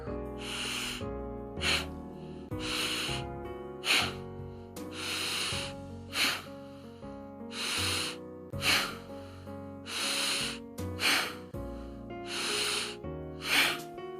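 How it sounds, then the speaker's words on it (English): Single-nostril Bhastrika breathing in a yoga session for asthma and bronchitis: forceful nasal breaths in and out, repeated in a steady quick rhythm about once a second, over faint background music. "Close your left nostril, raise your right hand, quickly inhale and exhale."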